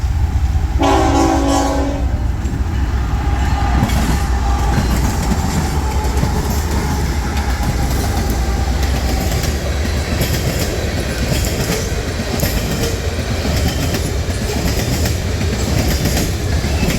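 Norfolk Southern AC4400CW locomotive sounds a loud horn blast, then its train rolls past close by with heavy rumble and clattering wheels on the rails continuing throughout.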